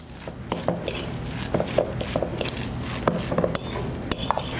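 Cutlery clinks and scrapes against a bowl while a veggie meatball mixture is stirred and mixed, a steady run of sharp close taps with no talking.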